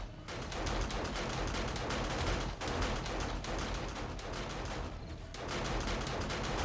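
Gunfire in the zombie survival game 7 Days to Die during a horde night, a dense, continuous rattle of rapid shots with brief dips, loud and unbroken, with no voices.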